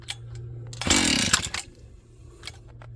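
A Husqvarna 268XP chainsaw from an auction gets a hard pull on the starter cord, giving one loud ripping burst followed by faint rattles and clicks, close by with no talking.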